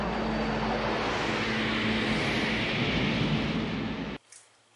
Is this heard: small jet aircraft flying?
yes